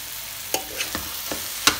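Almonds and raisins being roasted again in a pan, with a soft steady sizzle broken by several sharp stirring scrapes at uneven intervals, close and moderately loud.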